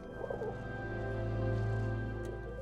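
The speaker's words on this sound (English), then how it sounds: "manufacturing and designing a palette of bird vocals that would emote what we were seeing on screen" Designed bird vocalizations for an animated film, soft cooing, pigeon-like calls rising and falling over a low sustained drone and steady tonal bed, moderately quiet throughout.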